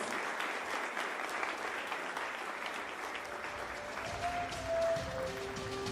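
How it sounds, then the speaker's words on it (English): A large audience applauds the President at a formal national ICT event, steady sustained clapping filling the room from start to finish, with a faint tone sounding near the end. "Let us give the President a round of applause."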